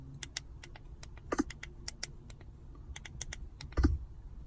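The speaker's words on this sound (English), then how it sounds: "Buttons are very responsive and tactile. You can hear them." Sharp little clicks come in quick, uneven bursts from a Google Pixel 5's side buttons pressed repeatedly up close, with a couple of heavier knocks in between and no talking.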